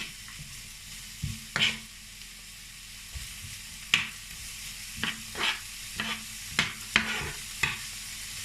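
A zucchini pasta sauce is stirred in a pan with a little olive oil, a low hiss punctuated by a series of crisp spoon scrapes and taps that come more often toward the end.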